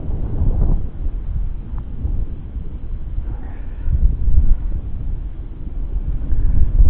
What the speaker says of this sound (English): That wind is killer.